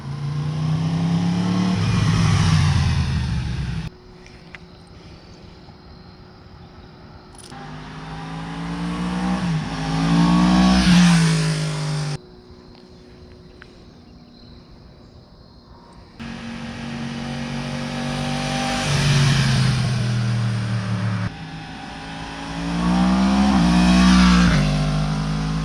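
A 2021 Yamaha MT-10 motorcycle engine revs repeatedly with a deep, throaty aftermarket exhaust, rising and falling in loud bursts between quieter idling stretches.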